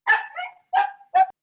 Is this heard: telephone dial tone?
no